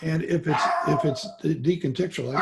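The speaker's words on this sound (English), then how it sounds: "you can hear a little dog in the background there" A small dog barks and yips in the background, a few short sharp bursts partly masked by someone talking steadily in the foreground.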